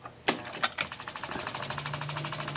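A 1961 Seeburg AY100U jukebox mechanism under restoration moves toward its reverse switch, with two sharp clacks followed by a fast, even train of mechanical ticking and a rising motor hum, close and clear.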